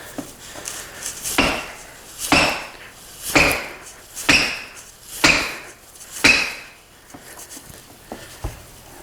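Separated laminate wood floor boards kicked repeatedly: about eight sharp knocking clacks at roughly one-second intervals, close and fairly loud, some with a brief rattling ring from loose boards.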